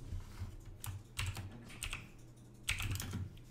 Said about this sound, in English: I'm going to quickly type in the chat.